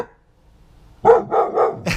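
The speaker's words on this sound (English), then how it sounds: "That's what they're all barking at!" Several dogs bark excitedly at an approaching bin lorry, a quick burst of four or five close, loud barks after a second of near silence.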